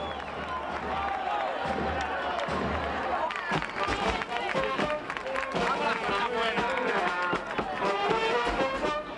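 Bullfight spectators cheer and shout in a loud, continuous crowd din, with scattered sharp claps and voices rising through the noise, dense and close across the whole stretch.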